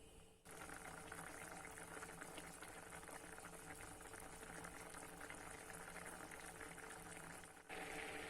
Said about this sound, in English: Allow the mixture to boil for 15 minutes.